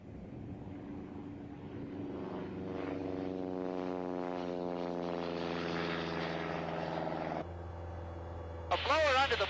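A propeller airplane takes off on a long, mushy high-altitude roll with reduced manifold pressure, its loud droning engine climbing steadily in pitch, then cutting off abruptly near the end, followed by a short burst of a different sound.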